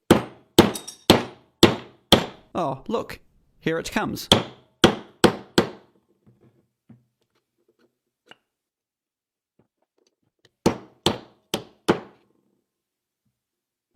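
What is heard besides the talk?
hammer striking a metal case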